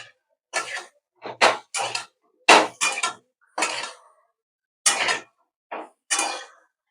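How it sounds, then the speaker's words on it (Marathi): Boiled potatoes are tossed and sautéed in a pan for a dry potato bhaji, heard as a series of sharp, separate scraping and clattering strokes of a spatula on the pan with silent gaps between them. "छान बटाटा बी ना परतून घेऊ"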